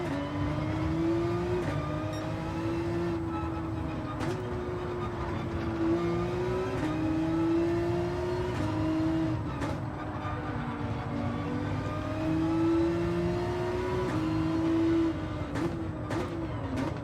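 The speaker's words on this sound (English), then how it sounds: "That Lamborghini sounds good." A Lamborghini engine in the Gran Turismo 7 racing game revs and shifts repeatedly, a continuous rising-and-falling drone with gear changes, steady and moderately loud with no speech.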